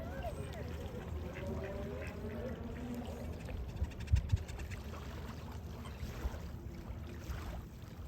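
Ducks quack on a lake at a village waterfront, a few calls scattered over steady outdoor ambience with water and a brief knock partway through.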